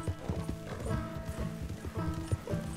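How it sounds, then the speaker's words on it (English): Hoofbeats of a horse galloping in Red Dead Redemption 2, a steady rapid clip-clop rhythm close and clear, with a faint whinny and music-like tones underneath. "in time with my horse galloping"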